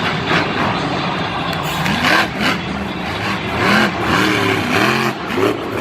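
Monster Jam monster truck engines revving loudly at a stadium event in Minneapolis, throttle rising and falling in repeated surges with a roaring crowd-filled arena behind, including the Earthshaker truck.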